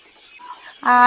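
On a country chicken farm raising native birds, a faint quiet stretch gives way near the end to one loud, close clucking call from a hen.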